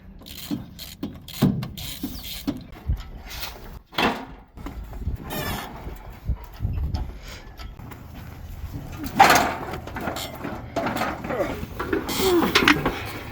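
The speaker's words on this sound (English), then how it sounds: "Gonna pull the steering column out." A steering column being wrestled out of a junkyard 1967 Chevelle, with scattered clunks, metallic ratcheting and knocking close by while someone talks over the work.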